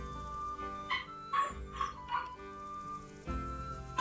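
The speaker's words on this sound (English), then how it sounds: "It's like a dog outside that's going crazy." A dog outdoors barks frantically in a string of sharp, uneven yips and barks, heard from some distance against a faint steady background hum, with no speech.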